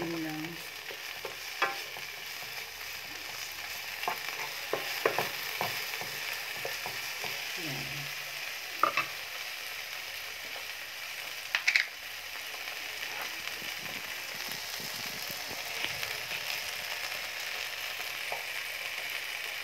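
Tomatoes sauté in a pan for a Filipino gisadong kamatis, a quiet steady frying sizzle broken by scattered scrapes and clicks of stirring, with no voices.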